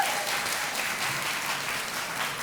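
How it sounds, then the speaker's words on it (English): An audience applauds after a talk, a steady wash of clapping from many hands, moderately distant and even in level, with no voices over it. "Round of applause."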